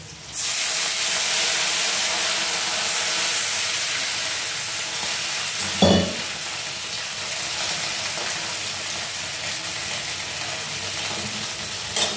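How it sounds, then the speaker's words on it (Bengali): Oil with green chili tempering hisses steadily in a pan after water has been added, a loud continuous sizzle and steam spray with one brief louder burst partway through. "এই জলের মধ্যে তেল আর লঙ্কা ফোড়ন, কাঁচা লঙ্কা ফোড়ন দিয়েছি।"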